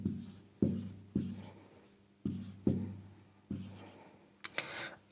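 Numbers are written by hand in a run of about seven distinct scratchy strokes with short gaps, close and alone, ending in a quicker flurry of marks.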